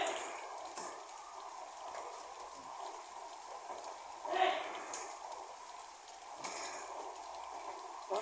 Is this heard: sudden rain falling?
yes